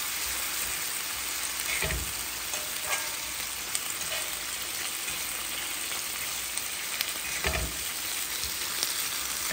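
Pork belly with gochujang and rice wine simmers in a pan with a steady, dense sizzle and bubbling. It is close and continuous, with a few soft stirring knocks.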